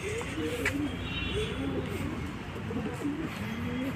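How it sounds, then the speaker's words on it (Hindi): Pigeons, white and black, cooing in an enclosure beside a lake, soft repeated throaty coos overlapping one another against a steady outdoor background hum, with no voices over them. "देखो कबूतर हैं, सफ़ेद हैं या फिर ब्लैक है, कई तरह के कबूतर हैं यहाँ पे"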